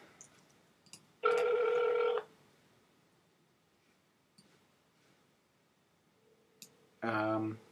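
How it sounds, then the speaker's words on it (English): A telephone rings in two loud bursts, a long ring near the start and a shorter one near the end, with quiet clicks and faint background sounds between them. "sorry if you guys hear my phone, I'm just calling somebody."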